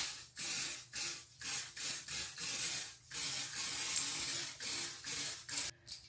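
An aerosol hair identifier spray hisses onto a face in short, forceful bursts, about a dozen quick sprays in an irregular rhythm, close up and with no voices.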